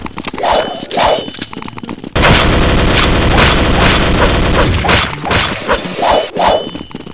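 A grenade blast in Counter-Strike 1.6 on a zombie escape server, a loud sudden explosion roaring over a dense mix of gunfire, metallic clangs and game effects.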